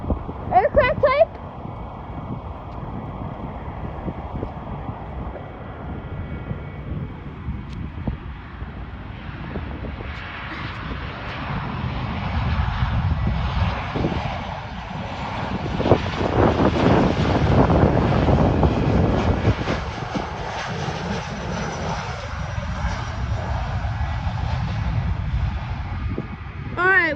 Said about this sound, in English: Our next departure is Delta Airlines at A321 going to Detroit.